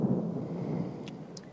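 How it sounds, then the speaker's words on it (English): Low rolling thunder from a storm in the 1992 film Housesitter, a steady broadband rumble lasting the whole moment with a couple of faint high ticks near the end. "And on cue, we have a storm."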